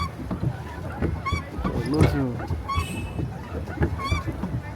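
A duck or similar water bird at Kodai Lake in Kodaikanal gives several short honking calls spread across the moment, close and clear over lakeside background noise.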